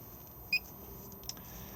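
A single short electronic key beep from the control panel of a 2020 Auto-Sleeper Broadway EB motorhome, sounding once, clear but quiet, against a low hum inside the vehicle.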